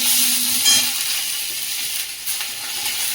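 Five-spice seeds and chopped ginger fry in hot oil with a steady, loud, broadband sizzle and crackle. It holds evenly for several seconds, with brief stirring scrapes and no talking.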